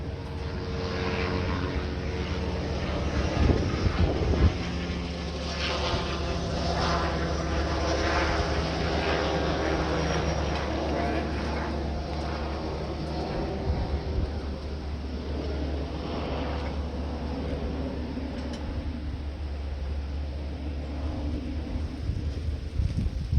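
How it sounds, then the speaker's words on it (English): A steady, droning rumble of helicopters passing overhead fills the scene, with gusty wind buffeting the microphone and a few brief knocks. "Got the helicopters flying over again today, so it's going to be a little noisy sometimes"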